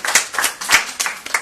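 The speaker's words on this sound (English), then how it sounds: "let's give all of our panelists another round of applause" Audience applause for a panel of speakers at a discussion event on Nigerian contemporary art: a burst of steady, dense hand clapping from a crowd, close and fairly loud throughout the short stretch.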